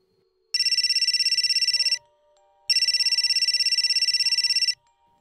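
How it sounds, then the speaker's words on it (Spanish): A mobile phone ringtone used as a sound effect in a Spanish-language horror story about truckers and highways rings loudly in two bursts separated by a short pause, with a faint low hum underneath and no voices. "En ese momento escuché mi celular."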